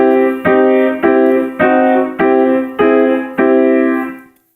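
Gospel-style chords in a single key alternate between major, minor, diminished and augmented qualities: seven evenly spaced block chords, each struck firmly and left to ring and fade, with the last one dying away alone.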